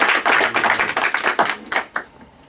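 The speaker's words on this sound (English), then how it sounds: "An applause for John." A small audience at an entrepreneurship seminar claps. A brisk burst of close claps tapers off into a few scattered final claps within about two seconds.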